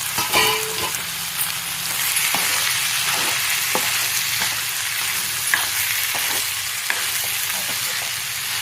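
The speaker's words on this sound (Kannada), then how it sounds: "ಈಗ ನೆಂದಿರೋ ಸಬ್ಬಕ್ಕಿನ ಹಾಕ್ಕೊಂಡು ಕಲಿಸ್ಕೊತೀನಿ" Soaked sago being mixed in a hot pan for a sago and moong dal upma, a continuous close sizzle with intermittent spoon scrapes and clinks against the pan; no talking.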